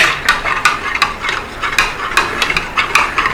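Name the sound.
stirring apple cider vinegar into milk to make buttermilk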